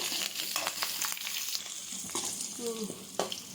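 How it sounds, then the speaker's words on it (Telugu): Tempering spices and garlic sizzle in hot oil with a crackling hiss, broken by the scrape and clink of a spoon stirring the pan, fairly quiet; part of making ivy gourd chutney. "ఇవన్నీ ఫ్రై అవ్వాలి."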